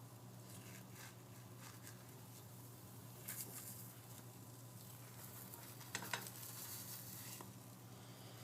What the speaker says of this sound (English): it's obviously hot and cooking, the cheese is starting to melt